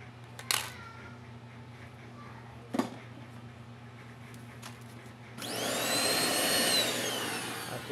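A vacuum switches on partway through, a loud steady whoosh with a whining tone, used while grooming an adult short-haired cat, after a couple of sharp clicks in a quiet room.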